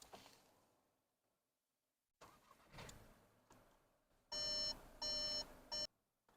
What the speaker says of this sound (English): You have to start the car by manually putting it in.